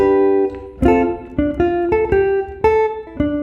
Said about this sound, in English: Now I'm going to play through the whole solo